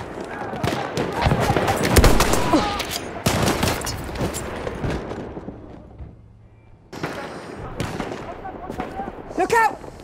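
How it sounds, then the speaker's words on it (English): Battlefield 1 gunfire from a machine gun: dense bursts of rapid shots and battle noise, loud and close. They sound almost continuously, with a short lull near the middle, and in-game voices call out over them. "Look out! Machine gun!"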